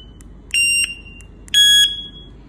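Two short, piercing electronic beeps from a device's speaker at its loudest setting, each about a quarter second long and spaced about a second apart, close and clear over quiet background hiss.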